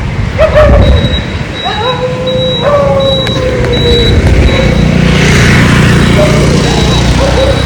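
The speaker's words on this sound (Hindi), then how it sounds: "देखा कुत्ते कैसे भौंक रहे।" Dogs bark and whine repeatedly on a street at night, moderately close, over a steady hum of passing traffic, with someone talking at times.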